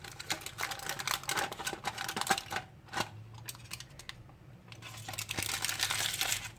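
A glass jar of homemade cucumber cream is opened by hand. Close, quiet clicks, rattles and crinkly scraping from the lid come in uneven bursts, with a short lull midway and no talking.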